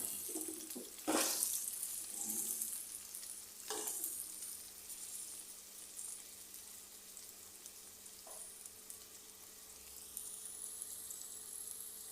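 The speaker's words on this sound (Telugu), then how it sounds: "సో ఇలా కాసరకాయలన్నీ మొత్తం డీప్ ఫ్రై చేసేసుకోవాలండి" Bitter gourds (kasarakaya) deep frying in hot oil, a steady close sizzle with a few louder bursts of stirring near the start and a quieter stretch toward the end.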